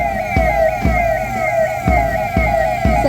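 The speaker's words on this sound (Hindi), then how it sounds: "आपातकालीन सेवा के लिए सदैव तत्पर वाहन 112 सलामी मंच के सामने से गुजरती हुई" A Dial 112 police emergency vehicle sounds its siren as it passes the saluting stage during a Republic Day parade at the Churk police lines in Sonbhadra. The siren wails loudly and steadily in repeated sweeping cycles, with sharp low thumps recurring about every half second.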